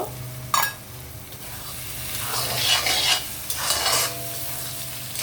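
Chopped tomato and green chillies fry in a hot pan with a steady sizzle, while a utensil stirs and scrapes in bursts against the pan and clinks sharply once near the start.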